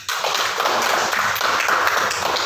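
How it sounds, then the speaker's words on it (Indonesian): Classroom of students applauding a classmate named Yogi, dense continuous clapping from many hands close by, steady throughout. "Tepuk tangan untuk Yogi"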